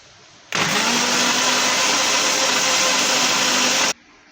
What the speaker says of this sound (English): And now I'm going to blend it.